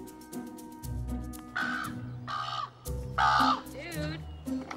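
A young captive raven being hand-reared at a wild animal rescue shelter gives several harsh caws in short bursts, close by, with people talking over and between the calls.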